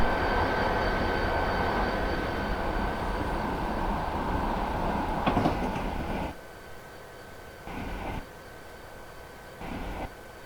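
F40PHL-2 diesel commuter locomotive in Train Simulator Classic, a steady rumbling drone that drops away abruptly midway, followed by short crackling pops of glitchy sound.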